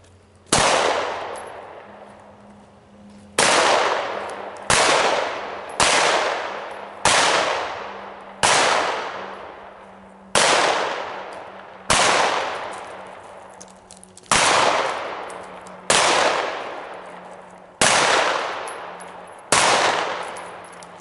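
Pistol shots fired during a serpentine shooting drill on a range, eleven sharp, loud reports spaced about one to two seconds apart, each with a ringing decay, and no talk.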